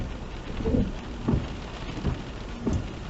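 Rain heard from inside a car while driving, a steady patter and hiss on the vehicle with a few soft low thumps recurring roughly every half second to second, no talking.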